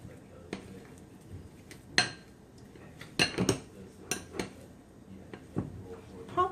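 A regular metal spoon scrapes and clinks against a bowl while cutting butter into low-carb, gluten-free cheddar biscuit dough, giving a few sharp irregular knocks over quiet background.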